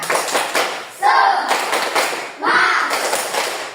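A group claps out a rhythmic spirit chant, tepuk semangat, in bursts of sharp hand claps and thuds, with voices calling out between the patterns.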